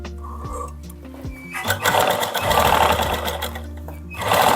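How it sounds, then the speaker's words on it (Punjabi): An electric sewing machine stitches along a suit's neckline, running in short bursts with a steady mechanical whir and rapid needle chatter, close and loud, pausing briefly between runs. "ਉਰੇ ਤੋਂ ਸਲਾਈ ਸਟਾਰਟ ਕਰਨੀ ਆਪਾਂ ਨੇ"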